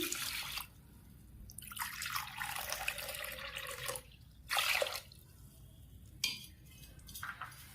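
Water is poured over toor dal in a pot for cooking, splashing in several bursts of varying length with pauses between, close and fairly quiet.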